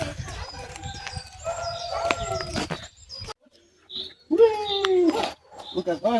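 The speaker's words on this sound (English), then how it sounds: "what's that? Rooster." Rooster crowing outdoors in a nature park, heard in a short rising-then-falling call near the end, amid chatter of other birds and people talking on a biking outing.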